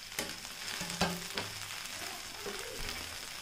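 Okra with chopped tomato fries in a pan for crispy bhindi sabji, a steady moderate sizzle broken by a few scattered clicks and taps of a utensil.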